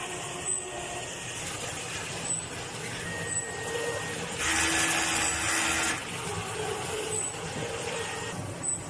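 A four-head large-format printer runs a print-head cleaning cycle. A steady, low mechanical whir continues throughout, with a louder burst of pumping noise midway and faint, thin tones coming and going.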